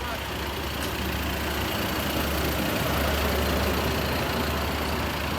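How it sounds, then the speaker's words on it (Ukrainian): A 2017 Audi Q5 (FY generation) idles with a steady, continuous engine hum and broadband noise that holds an even level throughout, with no talk over it. "Як працює двигун, ми зараз покажемо."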